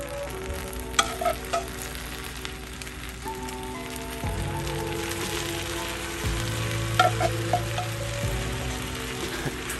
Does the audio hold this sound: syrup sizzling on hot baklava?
yes